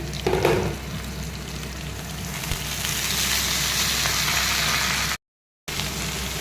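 Ridge gourd and eggplant frying in oil in a kadai with fenugreek and ginger, opening with a brief louder burst, then a steady, even hiss of sizzling, cut by a short gap of silence.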